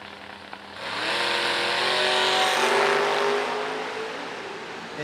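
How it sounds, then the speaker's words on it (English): A Camaro drag car launches at a drag strip, its engine roaring up to a loud sustained scream that fades slightly as it pulls away, with no one talking. "Eric, 518 the dial for the Professional Marine Service Camaro in the right lane."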